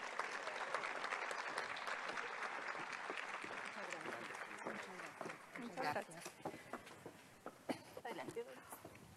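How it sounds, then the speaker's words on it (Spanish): An audience at an education event applauds two guest speakers, a dense wash of clapping that thins into scattered, individual claps and faint crowd murmur. "Démosles un fuerte aplauso a nuestras dos invitadas."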